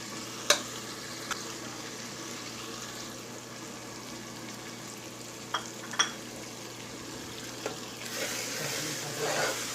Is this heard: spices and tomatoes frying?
yes